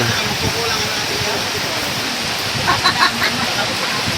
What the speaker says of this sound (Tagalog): Lakas ng ulan guys, sana huminto